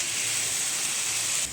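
A blended spice paste sautés in a pan, giving a steady, soft sizzling hiss that holds evenly and then cuts off abruptly near the end, with no talking.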